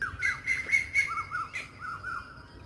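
Birds chirp and whistle in a walking park in the morning, a series of short bright tweets and trilled calls repeating in quick phrases, moderately near, with no talking.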